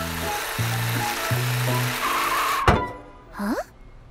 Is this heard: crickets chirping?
no